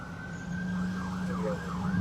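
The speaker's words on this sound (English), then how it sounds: "Those firemen don't change their sirens that fast." A fire truck siren wails in quick rising and falling sweeps over a low engine rumble, fairly close and steady.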